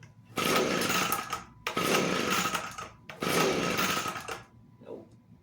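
An Echo leaf blower being pull-started, three long raspy bursts of effort that each cut off abruptly without catching, close by and loud, with a faint sound at the end.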